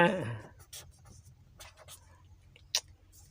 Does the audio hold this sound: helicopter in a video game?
no